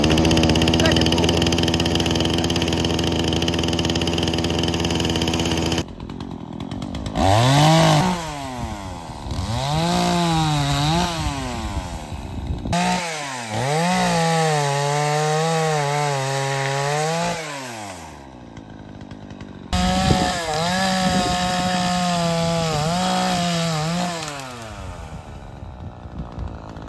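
A pull-start chainsaw runs and revs in bursts while cutting wood outdoors, loud and close, rising and falling in pitch, with someone talking over parts of it.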